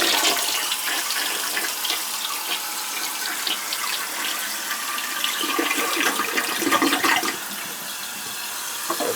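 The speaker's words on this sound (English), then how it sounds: "let's see if it flushes" A household toilet with a worn flapper flushing: a loud, continuous rush and gurgle of water lasting around nine seconds, with no speech.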